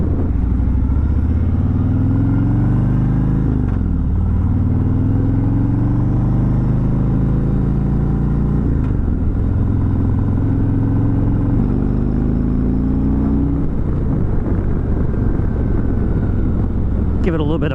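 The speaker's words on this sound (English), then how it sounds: "Give it a little bit of throttle there." A 2020 Harley-Davidson Road Glide Special V-twin rumbling loud and close, its revs rising and falling in several throttle blips over a steady low idle.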